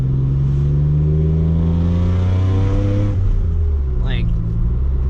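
A Nissan 300ZX Z31 engine revving while driving, a steady loud drone rising in pitch for about three seconds, then dropping back as a shift, heard from inside the car.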